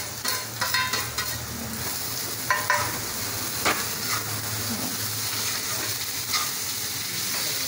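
Onions with chili powder and spices frying in a pan and stirred with a spoon, a constant loud sizzle overlaid with repeated scraping stir strokes, no talk.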